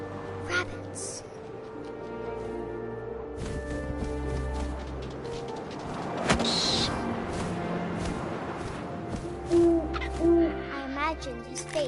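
Owl hooting in the video game What Remains of Edith Finch, soft repeated hoots over a layered ambient bed with wind-like noise, faint rustles and occasional light thuds.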